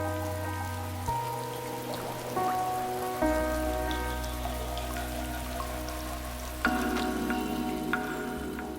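Rain falls in a humid South American rainforest as a soft, continuous patter, heard under sustained orchestral music tones.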